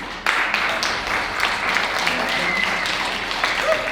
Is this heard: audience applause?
yes